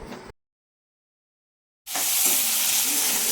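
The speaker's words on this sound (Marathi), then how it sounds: "सगळ्यात पहिलो आपण कांदो भाजून घेतो" Onion sizzles and crackles steadily in a hot pan for Malvani paneer masala, a loud continuous fry starting after a brief silence and running alone to the end.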